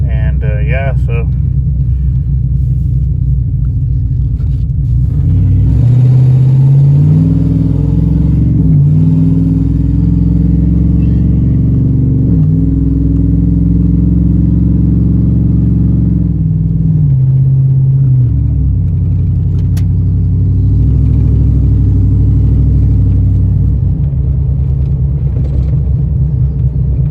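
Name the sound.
car driving during a 6L80 transmission swap test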